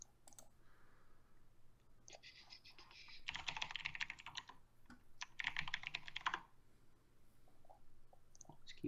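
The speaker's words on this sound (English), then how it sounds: "This keyboard is so nice." Typing on a computer keyboard, two long bursts of rapid, dense key clatter separated by a short pause, close and moderately quiet over a faint steady hum, with scattered lighter clicks around them.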